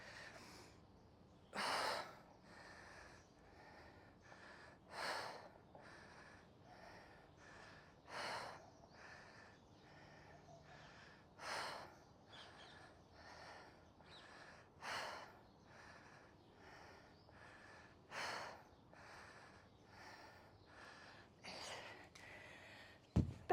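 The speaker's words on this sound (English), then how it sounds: "Breathing out on the way up." Heavy breathing during a dumbbell bent-over row workout, with sharp, loud breaths at regular intervals of a few seconds, each rising out of a quieter background, no talk.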